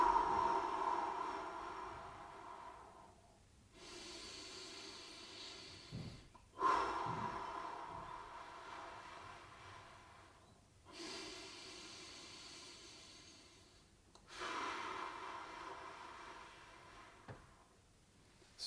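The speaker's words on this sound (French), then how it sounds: "Bien aspirer le plus profondément possible et souffler en vidant tout l'air qu'on a à chaque fois." Deep, slow breaths drawn in and pushed out during a seated shoulder stretch in a gentle exercise session, about three long hissing inhale-exhale cycles, close and quiet with no talking.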